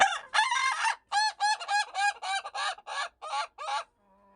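Ayam Ketawa chickens from Indonesia give a long, close run of rapid staccato crowing, a stuttering laugh-like series of about a dozen sharp bursts that ends in a brief faint tail.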